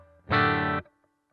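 A clean guitar amp model with reverb on a Headrush Gigboard: one strummed chord rings out bright and full for about half a second, then cuts off with a brief soft tail.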